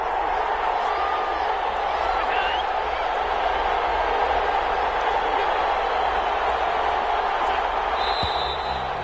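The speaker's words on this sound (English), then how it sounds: "The crowd's not doing that O-line any favors." Steady roar of a home crowd at a Buffalo Bills football game on a fourth-down play, loud and continuous throughout with no break, a broad wash of voices and whistles.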